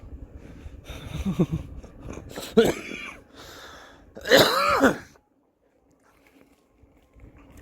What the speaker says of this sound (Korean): 서운하니까 기침이 다 나오네